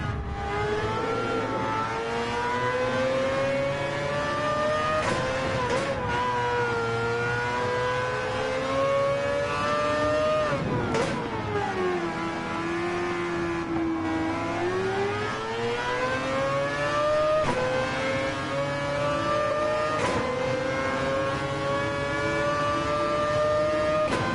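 A race car engine in Gran Turismo 7 revs hard and steadily, its pitch dipping and climbing through gear changes over a long, continuous stretch, loud and close with no talk.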